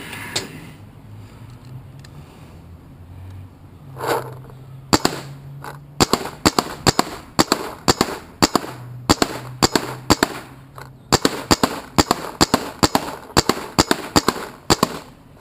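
Rapid bursts of airsoft G3 rifle shots, upgraded with Virtue boards and fired over a chronograph, crack sharply in close, fast volleys with brief pauses after a quieter stretch of room noise.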